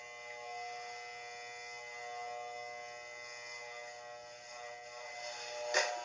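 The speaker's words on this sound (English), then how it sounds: "Take the clipper straight up." An electric men's hair clipper with a guard running steadily while it is drawn straight up the side of the head, giving a close, continuous buzz that ends in a short louder scrape.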